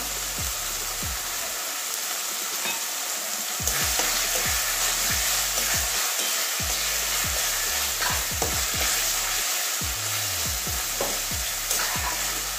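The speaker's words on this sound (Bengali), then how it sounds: "এবারে টমেটো কুচি দিয়ে দিচ্ছি একটা" Chopped tomato sizzling in a hot pan for an omelette curry, a continuous loud frying hiss with repeated scraping and stirring taps throughout, no talking.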